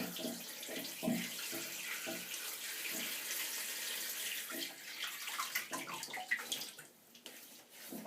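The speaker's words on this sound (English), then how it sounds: "I'm just going to run a drop of water into the sink." Water runs from a tap into a sink, splashing and gurgling steadily, close by, with the flow tapering near the end.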